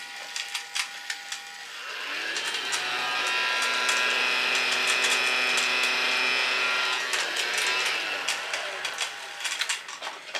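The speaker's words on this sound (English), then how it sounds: "a Dyson Hoover, a little mini one for your toddler" A toddler's toy mini Dyson vacuum cleaner switched on, its small motor whirring with a steady buzzing hum for about six seconds before winding down, bracketed by plastic clicks and rattles as it is handled.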